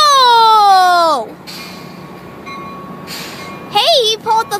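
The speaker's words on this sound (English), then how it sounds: "There's train 784 to San Diego." A train horn blares long and loud as Amtrak train 784 bound for San Diego departs the station, falling away into rumbling quiet before a shorter second horn sounds near the end.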